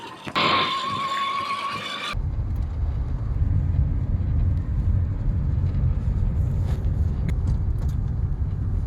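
A motorbike carries its rider home, the engine humming steadily up close with constant wind rush, after a short burst of high-pitched squeal at the start.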